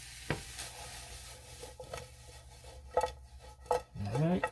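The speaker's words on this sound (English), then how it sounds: "You hear it sizzle like that." Garlic and broccoli cooking in butter with red pepper flakes in a pan, giving a soft, low sizzle broken by a few utensil clinks and stirring scrapes, with no talking.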